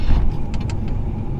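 A short, low engine rumble from an MK2 Toyota Supra rally car rolling slowly into a driveway, close and steady, with a few faint clicks above it.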